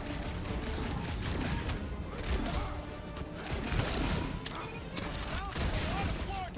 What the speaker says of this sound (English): Gunfire! There is much noise!